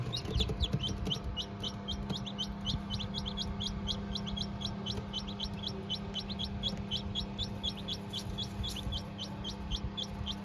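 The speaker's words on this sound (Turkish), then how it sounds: "Civcivlerimiz çıktı." Rapid, steady high-pitched peeping from newly hatched chicks, continuous throughout, with a low background hum underneath.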